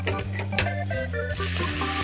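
Shrimp shells and heads crackle and sizzle in a little hot oil, with tonal hums and clinks of stirring, close and continuous over two seconds.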